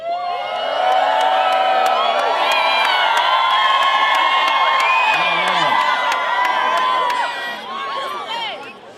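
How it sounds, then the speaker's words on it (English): A crowd of schoolchildren cheers and whoops at a school choice rally, loud sustained shouting and screaming that swells for several seconds, then tapers off toward the end. "That was the best cheer I've ever heard."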